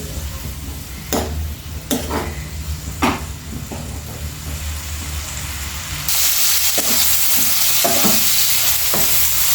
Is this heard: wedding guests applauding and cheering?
no